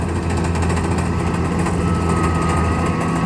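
A rice combine harvester engine runs steadily nearby, a loud, even mechanical drone with a high whine and no pauses.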